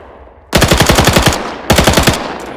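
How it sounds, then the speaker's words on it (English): A Thompson submachine gun fires in a World War II mod for an Arma-based shooter, two loud rapid bursts of evenly spaced shots close up, the second burst shorter, with a ringing tail. "Alright, here we have the Thompson."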